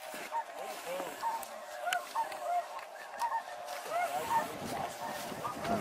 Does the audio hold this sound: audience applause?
no